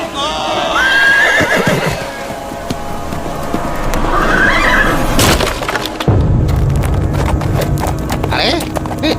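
A horse whinnies loudly, then hooves clop and shuffle in a staged royal-era audio drama, with a second neigh and heavy hoof thuds close up alongside voices.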